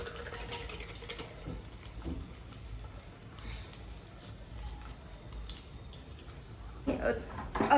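Popcorn kernels being stirred in a pan with oil and butter, a faint, close rattle and scrape with soft clinks, louder near the end, under quiet household background noise.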